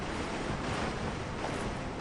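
A Dark Souls character wades through water, producing a steady, dense rush of sloshing and splashing that stays loud and even throughout, with no voices.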